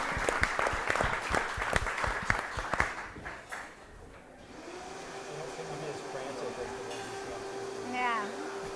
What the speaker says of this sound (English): Let's give these chefs a round of applause.